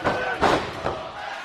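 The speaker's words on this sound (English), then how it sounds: "Crowd starting to come alive now, getting behind Roderick Strong." A wrestling crowd at a Ring of Honor match, Roderick Strong versus Jay Lethal, cheers and shouts in short bursts, a couple of swelling roars from a large arena audience.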